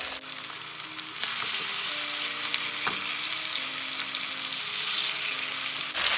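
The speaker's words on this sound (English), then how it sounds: "You want to hear that sizzle." Steady, loud sizzling of pork chops searing in a hot skillet, a constant crackling hiss that starts abruptly and holds for several seconds.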